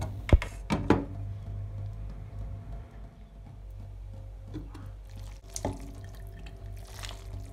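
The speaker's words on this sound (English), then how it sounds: "so that all the water drips out" Water drips and trickles out of drained pasta in a few sharp drops and splashes near the start, then a faint, wet drizzle continues over a low background hum.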